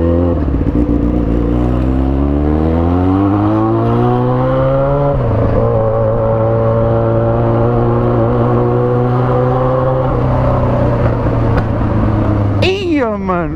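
Yamaha XJ6 motorcycle fitted with a new aggressive exhaust, revved up close and loud: the engine note climbs for about five seconds, holds a steady high rev, then drops sharply near the end.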